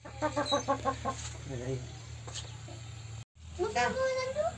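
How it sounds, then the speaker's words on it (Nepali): A chicken clucks in a quick run of short, throaty calls close by, followed by a few more squawking notes after a brief gap. "हामीले चाहिँ काट्न लागेको कुखुरा यही हो"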